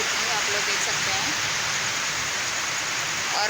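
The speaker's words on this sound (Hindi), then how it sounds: "बहुत तेज बारिश होने लगी और मैं भीग गई" Heavy rain pours down outdoors at a village after a temple visit, making a dense, constant hiss that fills the whole span at an even, loud level.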